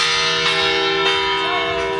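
A large bell rings steadily with a sustained, droning metallic tone and overlapping overtones, loud and continuous with no talk over it.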